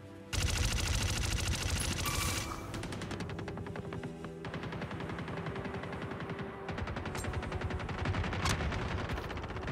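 Dense, sustained automatic gunfire from the video game Star Citizen during a Halloween event, loud rapid bursts running almost continuously with layered weapon sounds and no pauses.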